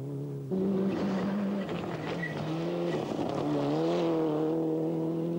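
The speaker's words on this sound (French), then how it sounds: "Freddy et Sven ont le droit de rouler 30 km, question de découvrir le pilotage de la Celica sur la terre caillouteuse" A Toyota Celica rally car on a loose stony dirt stage in Portugal, its engine droning loud and steady with pitch shifts as the driver changes gears, plus gritty tyre noise on the gravel.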